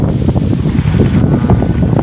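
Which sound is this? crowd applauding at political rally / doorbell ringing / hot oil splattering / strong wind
strong wind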